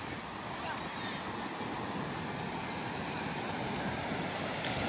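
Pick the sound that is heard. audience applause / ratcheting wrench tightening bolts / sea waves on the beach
sea waves on the beach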